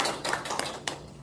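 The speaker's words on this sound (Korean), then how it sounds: "서의원님께 박수 부탁드리겠습니다" Scattered clapping from a small audience at a university alumni economics lecture, a few separate claps and taps standing out over a quiet room, fairly faint and close.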